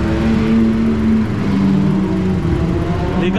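A Volkswagen Up GTI engine revs hard and holds a loud, steady, droning pitch close by as its tires spin, the tone dipping and climbing slightly before a brief higher whine near the end.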